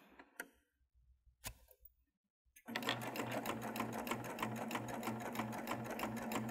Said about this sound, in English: I'm gonna slide my fabric underneath up to the needle, and I'm gonna stitch my first piece